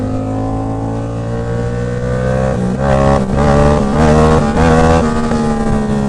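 Yamaha MT-07 motorcycle engine revving during a ride, loud and close, with a throaty droning note that climbs and surges in repeated pulses of throttle over steady wind rush, with no talking.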